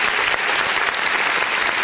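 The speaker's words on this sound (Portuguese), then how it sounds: "vamos aplaudir o nome do Senhor Jesus" Applause fills a church service, a congregation clapping in a dense, steady wash of hand claps, close and loud with no voices over it.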